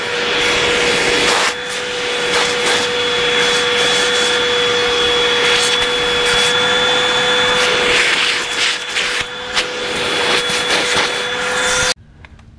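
A vacuum cleaner pulls crumbs from the seats of a 2015 Mazda CX-5 GT, a loud, steady whine with rubbing and scraping of the nozzle against upholstery, cutting off near the end, with no talking.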